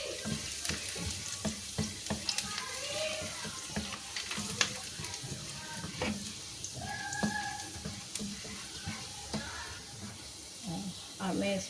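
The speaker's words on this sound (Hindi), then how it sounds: "तो अब इसमें मैं इस तरह से लहसुन शामिल कर दूँगी इसकी सॉस बनाने के लिए।" Chopped garlic sizzling in hot oil for a momo sauce, a steady soft crackle with occasional utensil taps and stirring, fairly quiet, with a voice talking over it at times.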